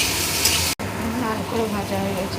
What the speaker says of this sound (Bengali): আলুটাকে লাল করে আজকে ভেজে দেবো